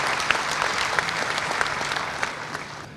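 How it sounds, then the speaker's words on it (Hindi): An audience claps steadily to welcome the chief minister at an Indore public event for a Narmada water supply project, a dense continuous round of applause from a large crowd with no voices above it. "जरा तालियां बजाकर उनका स्वागत करें।"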